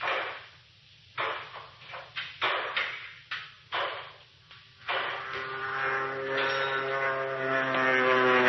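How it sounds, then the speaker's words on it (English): A small propeller plane flies low overhead in a 1940s film: a droning engine that swells and grows steadier and louder, with sputtering bursts before it. "It isn't the mail plane. It's a small job, listen. Flying low, too."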